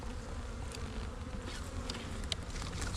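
Honey bees in an open 7-8 frame hive being built up for almond pollination, making a dense, steady buzz that holds at one level from start to finish, close and loud, with no talking.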